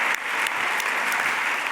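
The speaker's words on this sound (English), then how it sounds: "A round of applause." An audience at a talk about music gives a dense, steady round of applause that stays at an even level throughout, with no voices over it.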